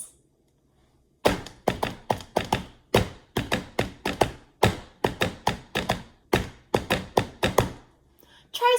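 Bare hands tap out a 3-against-4 polyrhythm in a steady run of sharp, close, dry slaps with two interlocking pulses, played alone without talk, stopping briefly near the end.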